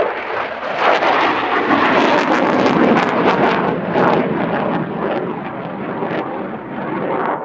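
A frontline fighter jet roars through a flying display at Cosford Airshow, a loud continuous broadband rumble with gusting wind buffeting the microphone, swelling and easing as the aircraft manoeuvres.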